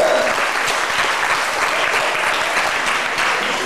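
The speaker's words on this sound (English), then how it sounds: "How about another round of applause for Monty, our big vulture?" An audience at a Busch Gardens bird show applauds, with steady, dense clapping that stays loud and close throughout the short burst.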